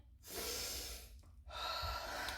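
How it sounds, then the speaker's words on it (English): A single deep breath drawn in, a short pause, then blown out, close and soft, with no other sound around it. "I want for you to take a nice deep breath in"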